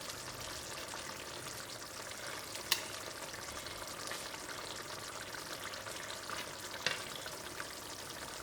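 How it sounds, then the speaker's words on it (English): Durban fish curry in a thick gravy simmers in a pot with a steady, soft sizzle and bubbling, close up and quiet, with a couple of faint clinks. "I'll allow this to cook for another 10 minutes and then the fish curry is done."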